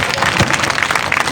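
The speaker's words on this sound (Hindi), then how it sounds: "तालियां बजाते रहिए आप लोग।" A crowd claps loudly and steadily at a school annual celebration and awards ceremony, with dense, continuous applause throughout.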